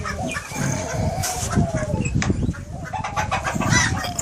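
Chickens cluck and squawk continuously in a farm chicken house that includes white black-tailed Japanese bantams, a dense, loud flock chorus filling the space.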